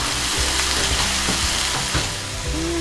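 Meat browning in a hot pan on a home stove gives a steady close sizzle and crackle, with small pops and scraping touches scattered through, and no one speaking.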